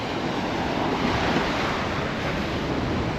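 Waves washing onto a beach heard up close, a continuous loud roar of surf with wind rushing over the microphone.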